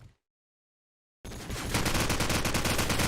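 Rapid automatic gunfire sprays through a wall in a tournament match of a competitive shooter game, starting abruptly after a silent gap and continuing as a loud, fast rattling burst.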